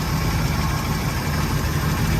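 A car engine idles steadily as it warms up, a continuous close, loud low rumble with an even, unbroken throb and no voices.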